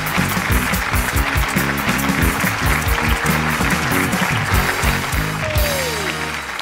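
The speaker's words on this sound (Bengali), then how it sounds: "একটা জোরে হাততালি পিঙ্কির জন্য।" Applause for a contestant on a televised Bangladeshi comedy reality show, crowd clapping layered over rhythmic music beats and a brief rising whoosh near the end.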